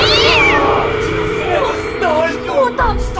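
A cat meows loudly and repeatedly, rising and falling wails close by, mixed with a person speaking at the same time.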